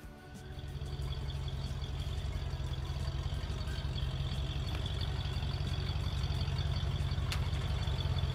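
A 1968 Ford Torino with a newly swapped AOD transmission idles after starting, a steady low rumble that rises slightly then holds even and close.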